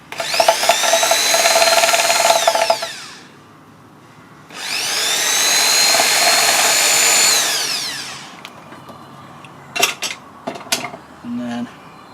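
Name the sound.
drilling pilot hole in wood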